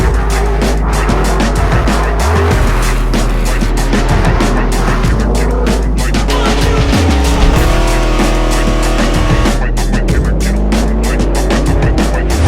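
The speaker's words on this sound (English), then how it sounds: "this is my first rip in my new Bronco DR" A Ford Bronco DR off-road truck is driven hard, its loud engine roaring close by with shifting revs and gear changes over a constant rumble and wind noise, and no talking.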